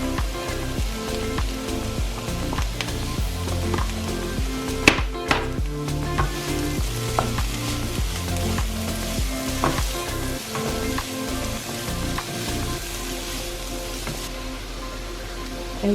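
Grated courgette hits a pan of frying vegetable rice with mushrooms, onions, red and yellow peppers and garlic, giving a steady close sizzle with scattered pops and stirring clatter that settles to a softer hiss near the end.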